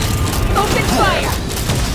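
Loud, dense volleys of gunfire and blasts from the video game Genshin Impact pound continuously through the whole moment, thick and close, with a faint voice mixed into the barrage.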